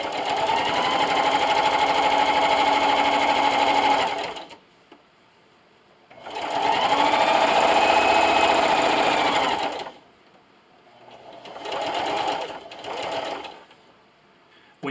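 A sewing machine runs down the side seam of a microwavable popcorn bag in two long steady bursts, each about four seconds, then a shorter stop-start run, loud and close with quiet pauses between.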